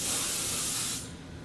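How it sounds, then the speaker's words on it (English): Hairspray is sprayed onto styled curls in one sustained, close aerosol hiss lasting about a second before it cuts off, leaving quiet room tone. "And then I'll spray the bottom all together so that I give it a bit more hold."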